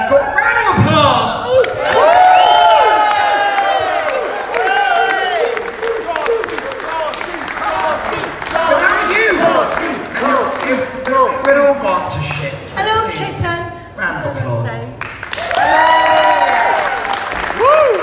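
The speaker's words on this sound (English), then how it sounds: "Like a round of applause." An audience at a burlesque show claps and cheers loudly, with bursts of applause and whoops rising and falling over a busy, noisy room.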